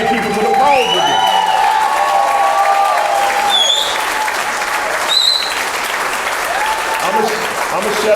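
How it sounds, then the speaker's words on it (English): Town hall audience at an economic justice event bursts into loud, sustained applause with cheers and whoops rising above it, while voices carry over the clapping. "I'd like to know, by applause, who's going to help make 10 other people fearless and take those 10 people to the polls with you?"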